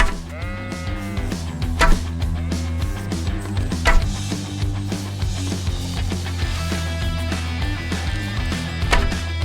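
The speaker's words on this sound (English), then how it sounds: "there were a bunch of sheep in the field mocking him over that stupid stunt" Sheep bleat in a field in a video game, with repeated wavering bleats over a steady bed of game music.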